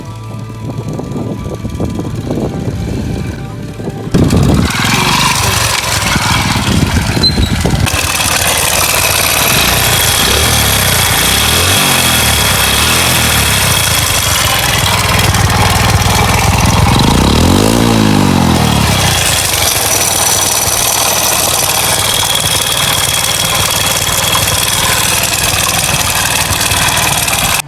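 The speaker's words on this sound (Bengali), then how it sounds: "আপনাদেরকে এখন এই বাইকটার সাউন্ডটা দেখাবো, সাউন্ডটা কী কোয়ালিটি আছে, কী বাজে হয়ে গেছে সাউন্ডটা" A worn Hero Splendor 100cc motorcycle engine runs steadily and loudly up close for nearly half a minute, its idle rising briefly in a couple of revs, with no talking over it.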